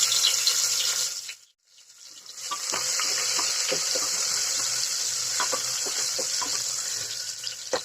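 Onions frying in hot oil with carom seeds, cumin and curry leaves in a home kitchen, a steady close sizzle with scattered crackles and pops, briefly dipping near the start, with no speech.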